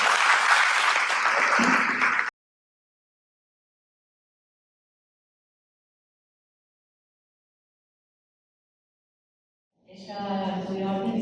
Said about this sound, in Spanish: Leo, un aplauso para ti.